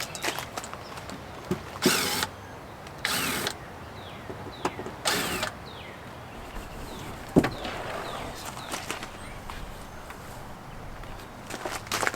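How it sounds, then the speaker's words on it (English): A cordless drill backs screws out of an RV water heater panel, three short whirring bursts close by, with handling clatter and rustling between them. "Now I'm going to unscrew these 3 screws here and pull this out."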